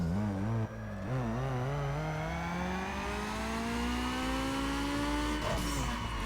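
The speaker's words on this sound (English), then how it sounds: "Car is super loud in the background." A tuned car's engine revs hard through a dyno pull in Need for Speed Underground 2, its loud, steady pitch climbing over several seconds and alone without talk.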